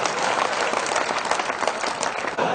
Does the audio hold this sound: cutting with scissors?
no